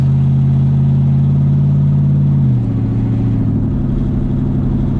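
LS-swapped Jaguar XJ-S on a residential drive, its steady engine drone loud and close from inside the cabin; partway through the pitch drops and settles as the car shifts gears.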